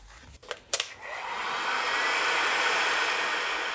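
A heat gun blows a steady, rising airy roar while heating the wheel hub of a BMW R80 motorcycle, preceded by a couple of short clicks and handling sounds.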